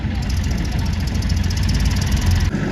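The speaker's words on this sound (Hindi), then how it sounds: "तीसरा ट्रैक्टर भी आ गया भाई हमारा, लगातार लाइन लगा दी" A tractor engine runs steadily at a civil construction site where soil is being hauled to fill potholes, a loud, continuous low rumble close by with no break.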